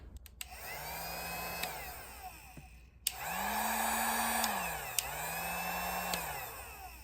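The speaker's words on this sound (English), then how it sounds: "It's a heat gun, probably a little dangerous, but let's plug it in the correct way right here." A plugged-in heat gun runs in three separate bursts, each a steady whirring fan and airflow hiss that starts with a click and stops abruptly, fairly quiet and close.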